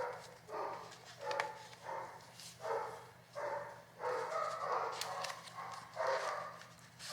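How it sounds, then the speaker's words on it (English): Several dogs bark downstairs inside a home, heard faintly from a distance as repeated bursts of barking spread across the whole stretch. "All the dogs are barking downstairs for something."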